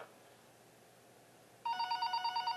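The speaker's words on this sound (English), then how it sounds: "Oh, yeah, phone call." A phone rings in the video game Five Nights at Powerpuff Girls, starting abruptly after a quiet stretch and repeating in a fast, even electronic trill, clear and steady.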